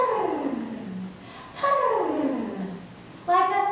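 A man imitates a cat purring with his voice during a storytelling workshop, producing three drawn-out, downward-sliding purring calls that are close and moderately loud, the last one cut short.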